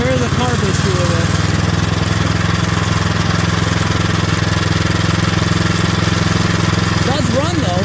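A Craftsman snowblower engine with a carburetor problem runs close and loud at low revs, a steady chugging drone that never picks up speed, with some sputtering hints of choking.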